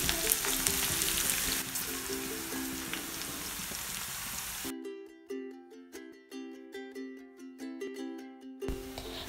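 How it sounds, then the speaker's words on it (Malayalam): Sliced onions sauté in oil with salt, a broad crackling sizzle that drops out halfway and gives way to a plucked, tonal musical passage with soft rhythmic beats. "അപ്പോൾ സവാള നമുക്ക് എണ്ണയിലിട്ടിട്ട് നന്നായിട്ടൊന്ന് വഴറ്റിയെടുക്കണം."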